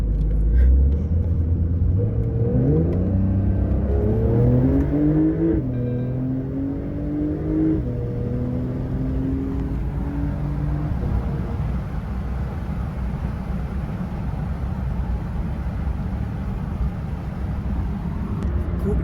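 A Porsche 911 Carrera GTS engine revs hard and climbs through gears while accelerating onto a ring road, pitch sweeping upward in several rising pulls before settling into a loud, steady drone.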